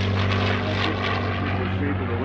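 A P-40 Warhawk fighter plane makes a photo pass at a World War II airshow weekend, its propeller engine a loud, steady, close roaring drone throughout.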